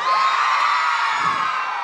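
A live audience at a comedy show in Milan cheers, whoops and shouts continuously, a dense, loud wall of crowd noise throughout.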